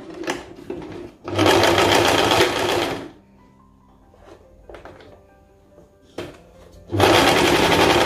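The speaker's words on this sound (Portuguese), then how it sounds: "eu vou vir aqui para começar a minha costura" A sewing machine stitches a chemise shirt in two loud, close bursts of rapid needle chatter, separated by a quieter stretch of light handling clicks and thuds.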